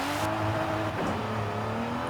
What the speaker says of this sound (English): all-wheel drive S2000 2J with 700 plus horsepower